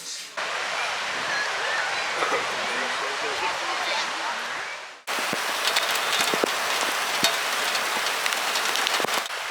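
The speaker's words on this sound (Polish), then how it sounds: "Rozdupcyło się i mocno pada." Heavy rain pours down at a beach in a storm, a loud continuous hiss that cuts off briefly halfway through before resuming with sharper, denser drops spattering close by.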